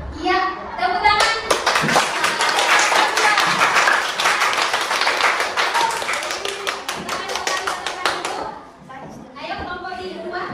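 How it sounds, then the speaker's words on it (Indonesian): Schoolchildren in a classroom clap together, a loud, rapid, rhythmic patter of many hands close by that fades out near the end, with children's voices around it. "Iya, tepuk tangan."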